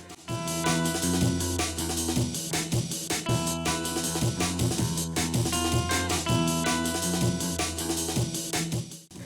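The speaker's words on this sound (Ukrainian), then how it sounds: "І все це ти виконуєш під просто шикарніший саундтрек, котрий ви можете чути зараз на фоні" Driving, energetic music from the video game ULTRAKILL, with a steady beat, heavy bass and layered synth tones, plays continuously at a consistent loudness, with no voices.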